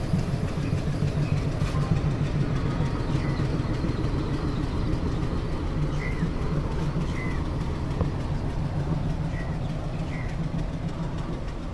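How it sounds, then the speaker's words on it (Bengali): A local commuter train on the South Eastern line out of Howrah pulls away and runs, a steady low rumble and rolling clatter heard from inside the carriage, with faint squeaks above a continuous drone. "আমাদের ট্রেন ছেড়ে দিল।"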